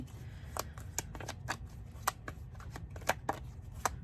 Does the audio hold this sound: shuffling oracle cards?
yes